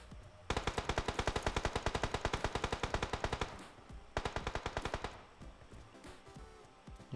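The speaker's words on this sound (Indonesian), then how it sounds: "Ya, di situ tadi ada tembakan." Automatic machine gun fire in the PUBG Mobile video game comes in two long, rapid bursts of evenly spaced shots, loud and close, separated by a short pause, with no talk over it.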